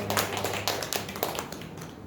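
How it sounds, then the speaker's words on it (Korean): Applause in a church service, a congregation clapping in a loose, uneven patter of hand claps close by, fading toward the end, with no speech over it. "우리 하나님께 영광의 박수 올리겠습니다."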